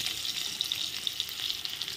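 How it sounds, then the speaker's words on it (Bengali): Potatoes frying in the same oil used for fish, a continuous bright hiss and crackle of bubbling oil with scattered small pops, moderately quiet and without speech. "একই তেলে আলুগুলো ভেজে নেব"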